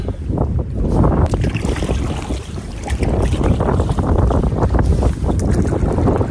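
Wind blows hard across an autumn lake while a solo canoe is paddled. Loud, continuous buffeting rumbles at the microphone, with faint water sounds underneath and no talk.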